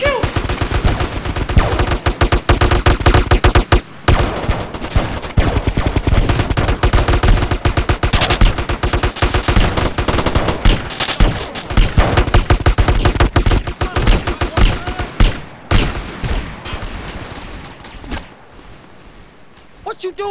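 Rapid gunfire bursts from a Grand Theft Auto gang battle game rattle loudly and almost continuously, with shouting voices mixed in before the shooting thins out near the end.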